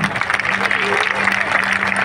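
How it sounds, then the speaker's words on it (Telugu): A church congregation in Madhira claps hands loudly together in a dense, continuous burst, with voices mixed into the clapping. "చేతులెత్తి గట్టిగా చప్పట్లు కొడదాం."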